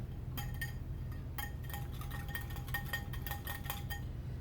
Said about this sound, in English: Whisk that up some more.